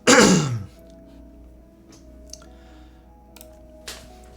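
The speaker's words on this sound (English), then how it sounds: "Sorry, I had to clear my throat." One loud, harsh throat clearing close to the microphone, then a quiet room with a faint steady hum and a few small clicks.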